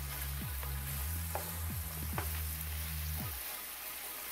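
Shrimp frying in a pan for Filipino bam-i, a continuous close sizzle with a low hum beneath it and several short descending whooshes or clinks of stirring, with no voices.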